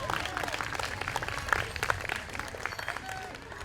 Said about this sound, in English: give her a round of applause right there